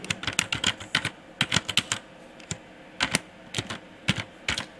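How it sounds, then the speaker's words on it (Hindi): Keys clatter in quick bursts on a computer keyboard while data is entered in Tally Prime accounting software, close and crisp with short pauses between runs of strokes and no talking. "यहाँ पर आप टाइप कर लीजिए"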